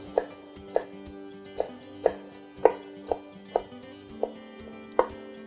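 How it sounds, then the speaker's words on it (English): A knife mincing ingredients on a cutting board, with about ten evenly spaced, crisp chops landing close by at a steady rhythm over a quiet background. "Cut these down to smaller pieces and then start to mince them."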